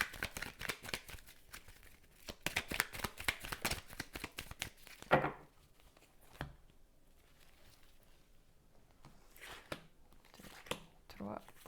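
Cartomancy cards being shuffled for a tarot-style reading, a dense flurry of crisp riffling flicks up close, then scattered softer card taps and slides with faint room noise between.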